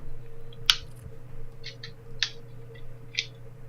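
A few sharp, isolated slaps or snaps spaced about a second apart, crisp and fairly close, over a quiet low hum.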